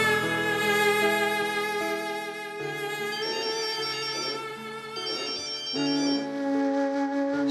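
A phone ringtone plays a sustained electronic melody with rich harmonic tones, changing notes in phrases and ringing on loudly and continuously with no voices.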